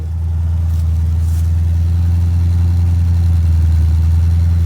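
A 1967 Ford Mustang engine running after being started, a loud, steady low-pitched idle with a deep, even rumble holding close to the microphone for the whole stretch.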